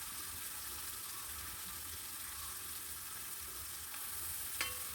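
Chopped onion and ginger sautéing in a little oil in a pan, a faint, even sizzle with light stirring and a brief clink near the end.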